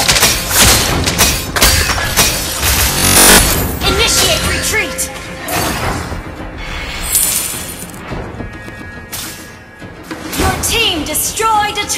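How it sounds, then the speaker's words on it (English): Game announcer and effects in Mobile Legends as a turret is destroyed, with dense crunching thuds and shattering crashes layered over music and ongoing battle noise, loud throughout. "destroyed a turret!"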